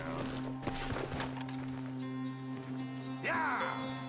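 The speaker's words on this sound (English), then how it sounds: "Hey, get that horse out of here." Horse hooves clip-clop in the video game Red Dead Redemption 2, faint and irregular under a steady in-game hum, with a brief whinny-like sound near the end.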